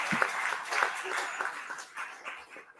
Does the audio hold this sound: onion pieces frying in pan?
no